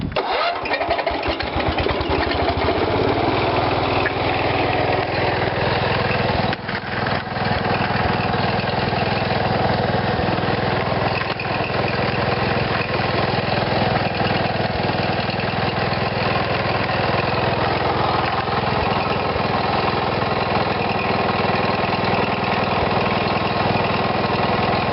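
A cast iron engine on a 140 garden tractor fitted with a three-point hitch cranks and catches, then settles into a steady, even idle heard close up with no talking.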